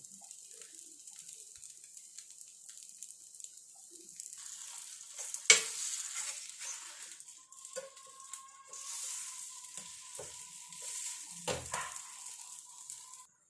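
Flatbread cooks on a dosa griddle with a faint, soft sizzle, broken by a sharp metallic clank and occasional scrapes, with a thin tonal hum in the middle.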